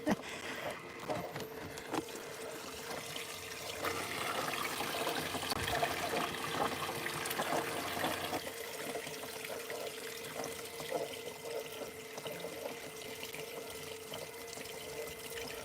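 Water pours steadily from a gold trommel at a creek-side mining site, making a continuous rushing, splashing flow that stays fairly loud throughout and thickens through the middle stretch.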